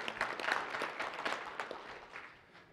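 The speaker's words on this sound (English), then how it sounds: "Yeah, you guys can clap, yeah." Faint clapping from a seminar audience at a real estate wealth talk, scattered hand claps that start fairly brisk and taper off toward the end.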